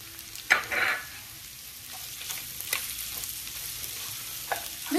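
Leeks fry with beef in a pan, a steady sizzle broken by several scraping stirs, fairly close and clear with no talking.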